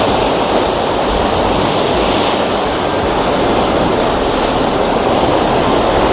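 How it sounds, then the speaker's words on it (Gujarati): Water gushing and splashing from the Narmada canal where it passes beneath the Sabarmati river, a steady, loud broadband roar that continues unbroken throughout, close and enveloping with no voices. "આ પાણીના છાંટા સીધા બહાર આવી રહ્યા છે"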